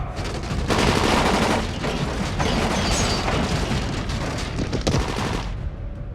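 Dense bursts of gunfire and booming shots fill a Dying Light video game cutscene, loud rapid fusillade with rumbling low end, tapering off at the end.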